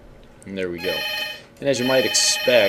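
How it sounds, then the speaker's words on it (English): A telephone rings in two bursts of repeated electronic trilling while someone talks over it. "sorry about the ringing phone."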